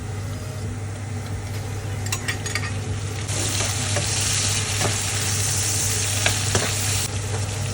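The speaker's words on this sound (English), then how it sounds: "I'm going to put in my saltfish now" Soaked, precooked saltfish hits a hot pan for Jamaican ackee and saltfish, setting off a steady loud sizzle with scraping stirring strokes and a few clinks of a utensil against the pan.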